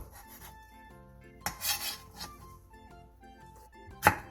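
Knife julienning four sheets of fish cake into thin strips on a cutting board, faint scraping and rasping strokes under light background music, with a brief louder clack at the end.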